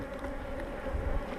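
Honeybees at an open spring beehive, a dense continuous buzzing of many bees close by, steady throughout the short stretch.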